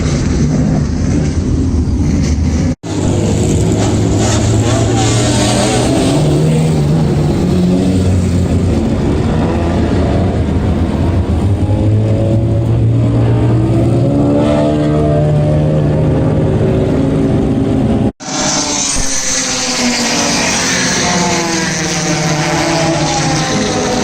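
Vintage race cars roar past on a large open racetrack, engines revving loudly and rising and falling in pitch as each passes close by, with continuous layered motor noise and two abrupt cuts.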